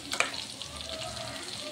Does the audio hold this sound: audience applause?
no